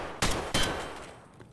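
Two sharp, close gunshots about a third of a second apart in the Escape From Tarkov shooter, each with a short booming tail that fades out.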